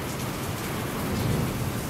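Steady heavy rain with a low rumble of thunder during a summer thunderstorm at the Château Forteresse de Culan in Cher, France, a dense continuous wash of sound.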